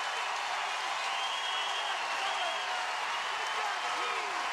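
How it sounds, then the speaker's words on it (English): A steady, loud crowd roar fills the stands at a 2011 Little League World Series game in Williamsport, West versus Mid-Atlantic, after a strikeout, continuous with no pause. "The crowd goes crazy."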